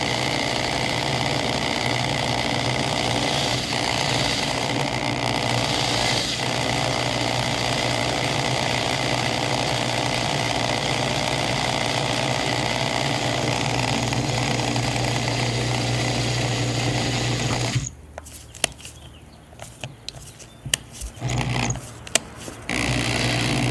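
A power drill enlarging a mounting hole for a budget backup camera whirs continuously at close range for about eighteen seconds, then stops, leaving scattered clicks and handling knocks.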